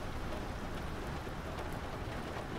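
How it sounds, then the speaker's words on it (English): Rain falls in the submarine video game UBOAT, a steady, quiet hiss of dense drops on a surface that continues evenly throughout, with no voices. "There we go, it's raining again."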